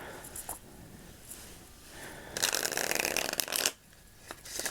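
A tarot card deck being shuffled, a long riffling burst of cards in the middle, loud and close, with lighter card handling before and after.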